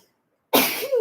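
A single sneeze bursts out suddenly after a moment of silence, loud and close, trailing off into a short vocal tail.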